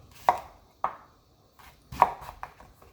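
A knife chops zucchini on a board for a Jamaican vegan zucchini and gungo peas rundung, about six crisp, close cuts in uneven bursts with short pauses between them.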